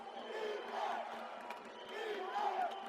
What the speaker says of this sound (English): the crowd is coming to life